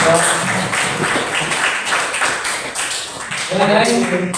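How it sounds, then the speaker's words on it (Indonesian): Classroom applause for a student, a continuous patter of many hands clapping at close range, with voices talking over and through it. "tepuk tangan buat Muhammad Jaya Ali"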